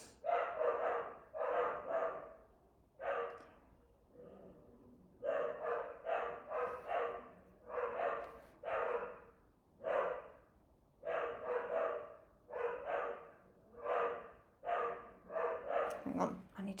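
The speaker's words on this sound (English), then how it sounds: "Sorry, my dogs are barking." Several pet dogs bark indoors in repeated bursts of two to four barks separated by brief pauses, loud and close, continuing steadily throughout.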